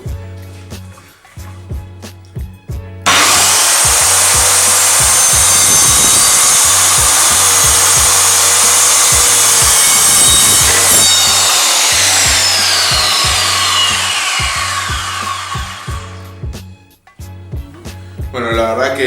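A Stanley SC16 circular saw spins up and cuts through eucalyptus mixed with other hardwoods, a loud, harsh whine held for about eight seconds before it winds down, with short bursts of clicking and handling noise before and after.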